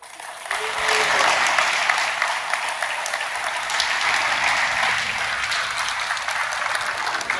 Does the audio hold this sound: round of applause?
yes